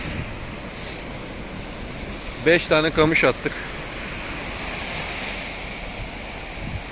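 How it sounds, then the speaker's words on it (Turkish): Light sea waves wash steadily on the shore during surfcasting for sea bass, a continuous soft surf with wind noise throughout, while someone speaks briefly in the middle. "Deniz böyle dalga hafif."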